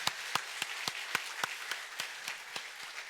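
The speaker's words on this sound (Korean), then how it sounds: "사진도 같이 한 번 더 박수해 주시기 바랍니다" A church congregation applauds during a Sunday worship service, a sparse, steady run of single claps spaced evenly, fairly quiet and without talk.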